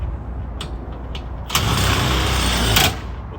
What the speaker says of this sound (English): So that's putting your jack down with the cordless drill and then taking your jack up